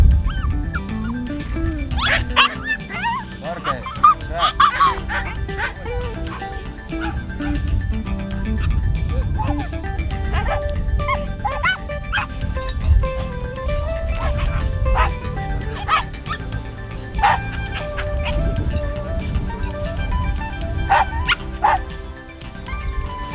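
A burrow hunting dog barks, yips and whimpers in repeated short bursts during a field test in a forest, the calls close and loud over a low background rumble.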